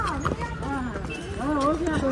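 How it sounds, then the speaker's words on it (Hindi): Horse hooves clop along an off-road trail ride in Mirik, a rhythmic stepping beat under a constant stream of voices talking close by. "ओ भाई ऑफ रोडिंग हो रहा है घोड़ा में"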